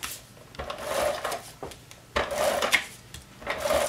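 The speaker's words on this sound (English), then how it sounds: "for that, I'm gonna use my ATG tape" An ATG tape gun lays adhesive tape onto paper for a handmade mini album, giving three drawn-out rasping, unspooling strokes of moderate loudness, close up, separated by brief pauses with no talking.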